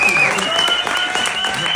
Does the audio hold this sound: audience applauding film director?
yes